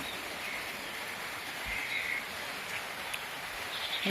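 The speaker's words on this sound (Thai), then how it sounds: "ตอนนี้ฝนก็เริ่มตก" Steady rain patters down in a soft, even hiss, with a faint bird calling now and then in the background.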